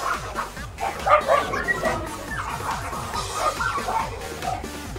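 Game sound effects of dogs barking and yipping in a Pokémon video game play over a busy, rhythmic music track. The yelps repeat in quick bursts throughout.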